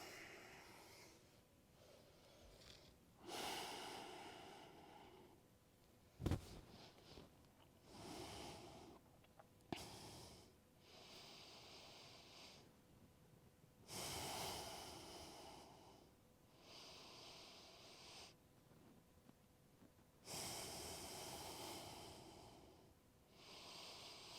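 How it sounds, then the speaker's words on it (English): Slow, deep breaths during a lower-back yoga stretch, each long inhale and exhale audible as soft airy swells repeating every few seconds, close and quiet with no talking. "let's do long, deep breaths"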